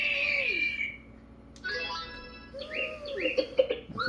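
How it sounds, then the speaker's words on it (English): A small bird chirp from an animal sound toy with realistic forest and farm animal calls, giving clear bright twittering and tweeting notes in bursts, close and fairly loud, with no talk over it. "That's a little birdie."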